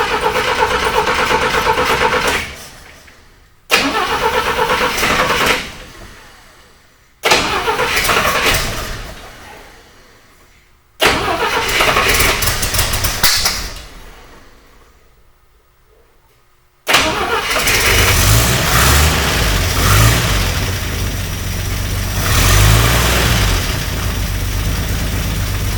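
Car engine cranking and catching several times in short bursts after an alternator repair, each start cutting out, then a final start into steady, close running idle; no talk.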